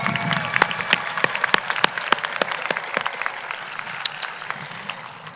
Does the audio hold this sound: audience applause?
yes